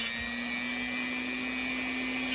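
A buffing machine polishes jewelry metal with a steady, loud motor hum and whir that holds unchanged throughout the short stretch.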